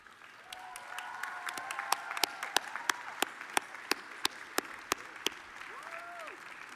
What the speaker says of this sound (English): give this group of dedicated people a round of applause